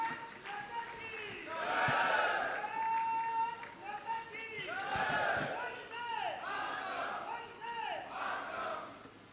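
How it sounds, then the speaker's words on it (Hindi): A crowd at a road inauguration event in Bihar claps and cheers loudly in swelling waves, with shouting voices and a music-like tone riding over the applause. "जोरदार तालियां होनी चाहिए करतल ध्वनि के साथ, ये पूरा सदन गूंज उठे"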